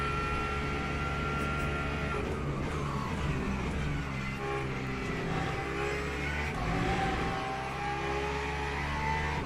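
LMP3 prototype race cars in a racing video game at Circuit de la Sarthe, engines droning steadily and loudly with layered harmonic whine as cars close in, no voices.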